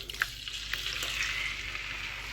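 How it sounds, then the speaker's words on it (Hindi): Goat liver (kaleji) sizzling in hot oil on a tawa, a continuous bright frying hiss with a couple of small pops, no voices. "अब इसमें मैं कलेजी ऐड कर दूंगी।"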